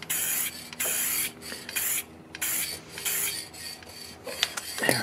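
Krylon UV-resistant clear gloss aerosol spray paint being sprayed in several loud, close hissing bursts of varying length, separated by short pauses, with no voices.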